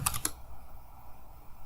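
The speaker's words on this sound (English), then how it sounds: "So we just type p and system." A GDB debugger command is typed on a computer keyboard: a quick burst of three or four sharp keystrokes at the start, then quiet room tone.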